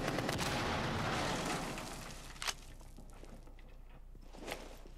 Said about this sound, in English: Hey, Buck's shooting out the roof.